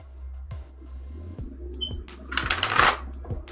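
Tarot deck shuffled during a livestream astro-tarot reading: a close, crisp riffling burst lasting roughly a second, following a series of soft, evenly spaced taps and a brief beep.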